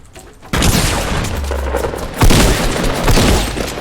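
Rapid gunfire from the Fortnite video game in a close-quarters fight, loud bursts of shots and booms running continuously after a brief quiet start, with no talk.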